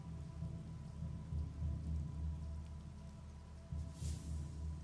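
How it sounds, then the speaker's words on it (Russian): Rain falls steadily in the ELEX game world, a continuous hiss with low rumbling underneath and a brief brighter splash near the end, with no voices. "дождь на улице, мокро, сыро"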